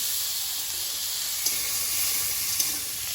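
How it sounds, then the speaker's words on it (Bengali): Potatoes frying in fish oil with dried red chilli and five-spice seeds: a steady, close, bright sizzle that holds for a few seconds, with two faint clicks from the pan along the way. "আর আলুটা আগে ভেজে নেব"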